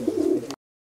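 An Andalusian pigeon coos close by, a single low throaty rolling coo lasting about half a second before the sound cuts off into silence.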